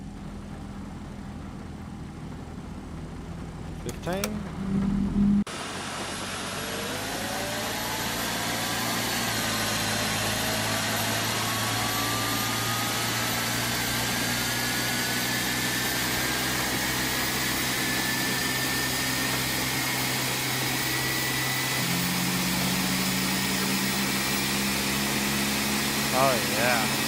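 In the X-Plane 12 flight simulator, an aircraft engine, the third on the airliner, starts up after a click, spooling into a loud, sustained whine and roar that stays steady for over twenty seconds, with a brief spoken word early on.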